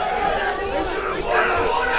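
A football crowd at a Christchurch United vs Nomads United cup semi-final roars as an equalising goal goes in, a dense, loud, sustained swell of cheering and shouting that rises slightly toward the end.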